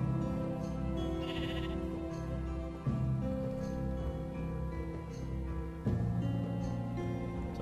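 Sheep bleating in Minecraft, a sustained tonal bleat running through the clip with a couple of abrupt shifts, set against a continuous background music bed.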